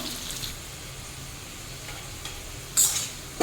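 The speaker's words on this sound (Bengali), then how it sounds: "এইভাবে লাল লাল করে আলুগুলো ভেজে নিতে হবে" Potato pieces fry in hot mustard oil with a steady close sizzle while a utensil stirs them, a few louder scraping stirs rising near the end.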